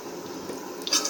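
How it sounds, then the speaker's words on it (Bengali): Ghee poured into a pan on an induction cooktop while making pulao, heard as a brief, soft liquid drip and squish that swells into a slightly louder splash right at the end. "একটু ঘি দিলাম"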